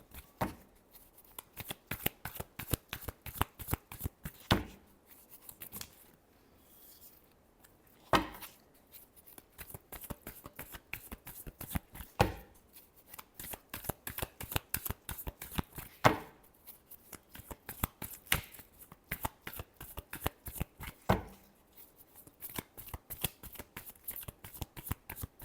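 Tarot cards shuffled by hand for a reading, with a long run of quick crisp riffling slaps and flutters in an irregular steady rhythm, close and fairly quiet, no voice.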